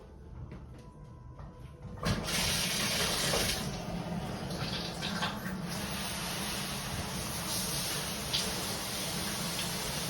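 Water bursts on abruptly and runs steadily through a filtered shower head, a continuous close hiss and spatter with no talking.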